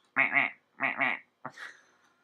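A voice imitates a duck, giving two nasal quacks and a shorter, rougher third one in quick succession, close and alone.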